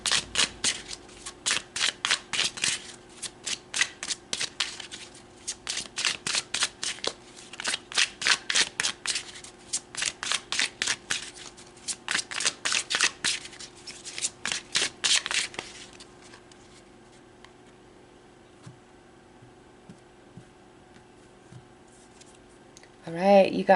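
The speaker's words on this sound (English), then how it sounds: "So let's pull some more cards." Tarot cards are shuffled in repeated rapid riffling bursts for about fifteen seconds. Near quiet follows, and a voice speaks briefly at the very end.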